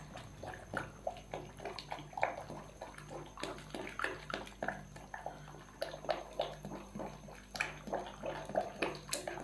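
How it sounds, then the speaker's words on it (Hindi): A spoon stirs quickly through chicken corn soup as beaten egg is poured in, giving quiet, rapid, continuous liquid swishing and light clinks against the pot. "थोड़ा थोड़ा आपने इसके अंदर अंडा शामिल करना है और साथ जल्दी जल्दी चम्मच हिलाते जाना है।"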